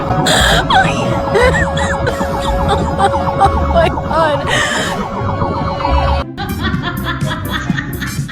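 A wailing siren sweeps up and down amid loud, busy traffic noise, with engines rumbling close by and a brief break near the end.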